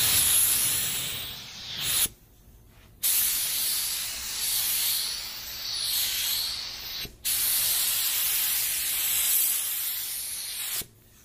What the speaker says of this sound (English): This spray gun uses very little CFM, so it does not need a lot of air pressure to function properly